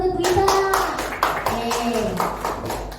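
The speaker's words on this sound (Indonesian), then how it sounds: "Beri tepuk tangan buat Bu Ita." A classroom audience of teachers applauding for Bu Ita, a burst of close clapping lasting a few seconds with voices talking over it.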